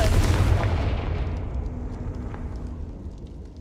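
A Confringo fire-blast spell from the Hogwarts Legacy game bursts with a loud, deep boom that rolls off into a fading rumble over a few seconds.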